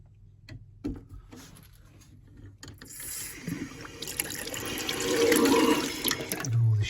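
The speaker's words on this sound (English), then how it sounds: "So let's blast a bit of water through that." A plumber flushes water through a tap after refitting a washer: faint handling clicks at first, then water starts gushing and spluttering, growing louder and rougher toward the end.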